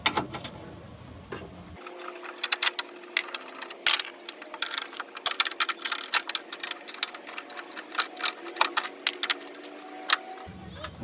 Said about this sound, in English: I got a 10mm wrench. That is 1, 2, 3, 4, 5 bolts I'm taking out.